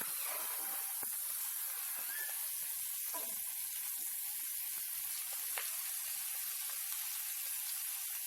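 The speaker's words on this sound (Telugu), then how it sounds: "ఇప్పుడు ఆనియన్ వేగిపోయిన తర్వాత దాంట్లో పసుపు క్యాప్సికమ్ ముక్కలు వేసి బాగా కలుపుకోవాలి" Capsicum pieces and turmeric frying with softened onions in a pan, a steady close sizzle and hiss running throughout with a few faint scrapes and pops, no voices.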